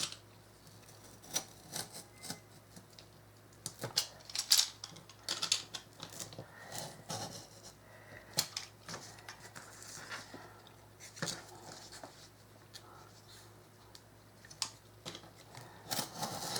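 Scissors cutting out a traced craft piece, a series of irregular close snips and crisp paper-like clicks with pauses between cuts.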